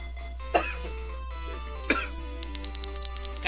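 Two sharp coughs, spaced about a second apart, punctuate a quiet stretch of Pokemon Crystal game music with soft chimes.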